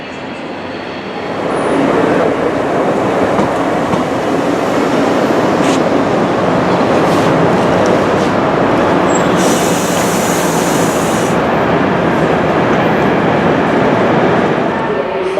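A steady roar of rail noise fills a railway platform in Vienna, continuous and loud, with faint voices and occasional high squeals mixed into the rumble.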